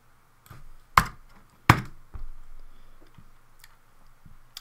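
Computer mouse clicks in Solidworks while saving a STEP file: two sharp distinct clicks followed by a few softer taps over a faint steady hum, close and isolated.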